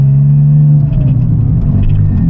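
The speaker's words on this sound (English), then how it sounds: "Driving the 911 for the first time since we did the straight pipe on it." A Porsche 911 996 Turbo with a straight pipe exhaust rumbles loud and close from inside the moving car, a deep droning burble with a slight dip in engine note.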